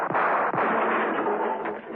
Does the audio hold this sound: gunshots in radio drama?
yes